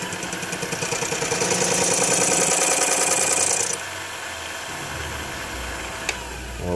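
Cutter spinning at high speed against a brass piece while shaping a flywheel pattern, a loud steady whirring buzz that drops to a lower, quieter hum partway through, with one sharp click near the end.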